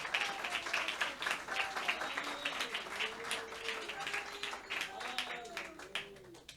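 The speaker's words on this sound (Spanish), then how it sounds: "mi aplauso para esta madre, para este padre" Church congregation applauding a mother and father, sustained clapping running under a speaking voice that continues throughout.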